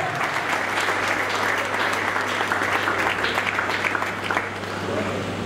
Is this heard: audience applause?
yes